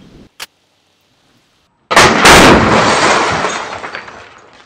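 Flashbang grenade detonating indoors among knockout lights: after a near-silent pause, a sudden loud sharp blast bursts out, followed by a long roar and scattering debris and glass that slowly fades.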